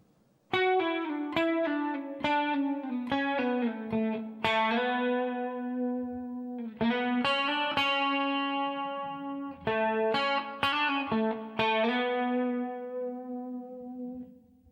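At a slow tempo, an effected electric guitar works through a passage, clusters of picked notes with slides and hammer-ons, sustained tones ringing between phrases, close and alone.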